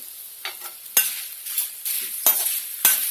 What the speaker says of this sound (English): mix it in a nice manner and it will get cooked